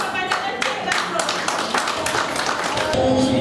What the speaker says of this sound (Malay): semuanya sama-sama beri tepukan yang sangat gemuruh kepada Encik Datuk